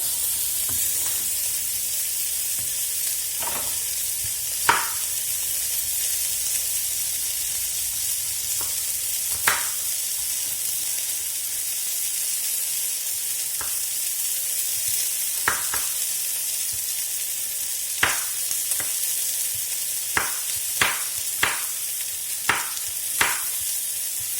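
Food frying in a very hot pan, an even hissing sizzle running the whole time, broken by scattered sharp utensil taps that cluster toward the end, close and steady with no one speaking.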